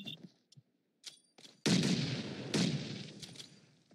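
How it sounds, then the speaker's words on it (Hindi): Firecrackers burst in the video game PUBG Mobile during a Diwali-themed match: a few sharp small pops, then two loud booming blasts that ring out and slowly decay, with no speech. "पटाखे फूट रहे हैं पबजी मोबाइल में"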